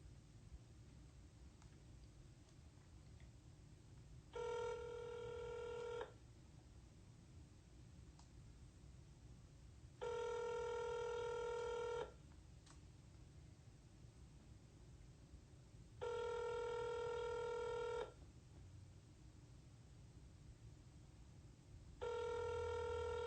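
A telephone ringback tone repeats while a call to a rental office connects, four evenly spaced ring bursts of about two seconds each separated by quiet line hiss.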